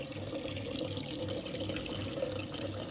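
Water splashes and trickles softly as plants are watered at home, a faint continuous pouring with slight rhythmic gurgles, nearby and unaccompanied by talk.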